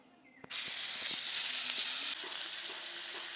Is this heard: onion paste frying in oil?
yes